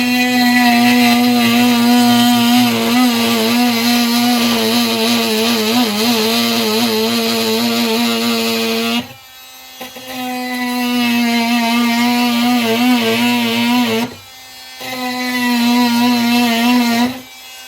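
A power tool grinds off a rivet nub on a steamer trunk, a loud steady high-pitched whine with a strong hum, running for several seconds and then in two shorter bursts after brief pauses.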